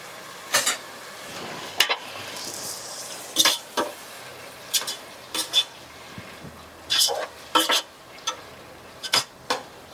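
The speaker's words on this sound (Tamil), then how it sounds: "இப்போ வந்து நம்ம கொஞ்சம் தயிரை சேர்த்துக்கலாம்." A spoon stirring yogurt into sauteed tomatoes and green chillies in a metal pan, with a run of sharp clinks and scrapes against the pan at irregular intervals over a faint background hiss.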